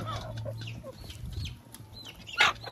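Hens clucking after being rewarded for laying eggs, several soft, close clucks and murmurs scattered across the moment, with a louder squawk near the end.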